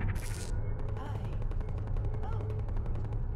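Turrets firing in the video game Portal, a rapid rattling stream of shots over a low background hum, steady and moderately loud for the whole stretch.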